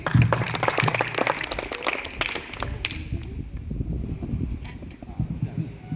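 Audience at a summer camp claps for a student, a dense burst of hand claps at the start that thins out, with voices talking over it.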